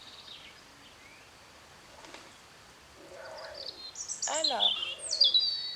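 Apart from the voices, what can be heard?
pigeons cooing up above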